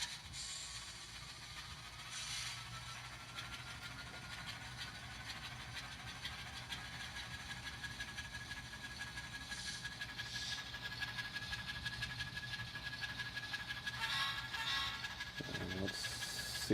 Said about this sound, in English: So I got my trusty switcher on there, start her up.